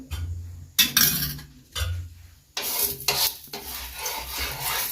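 A cotton cloth rubbing oil across a dosa pan, rough rasping strokes in several separate bursts, close and fairly loud, with no talking.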